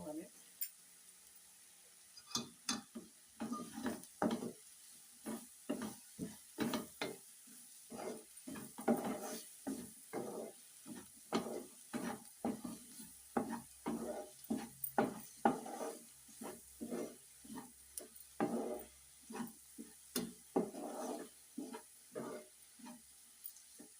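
Tamarind leaves and onions fry in a pan while a utensil stirs them, giving repeated scraping, clinking strokes in an uneven rhythm over a soft sizzle, with a voice talking intermittently.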